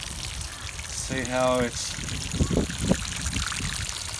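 Water pours and trickles over volcano rock in a fish tank filter bucket in short splashing bursts, while people talk nearby.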